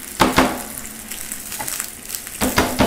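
Garlic cloves frying in a hot pot of oil, a steady close sizzle broken by a few sharp crackles and stirring scrapes, with no talking.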